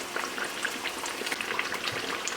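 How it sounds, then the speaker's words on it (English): Homemade bread pan-frying in a pan, a faint, steady sizzle with small scattered pops and crackles throughout, heard alone. "It fries up pretty quick."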